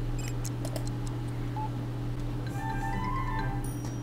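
A telephone rings in The Sims 3, a few short electronic chirps followed by a drawn-out warbling tone, set over a steady low hum from the game.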